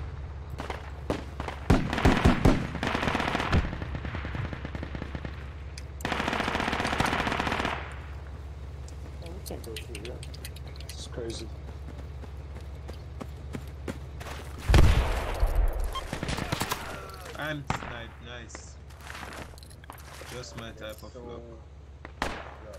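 Bursts of machine-gun and rifle fire in the military shooter Project Reality, some close and loud, others farther off, including a sustained volley and a heavy blast, with squad members talking over the shooting.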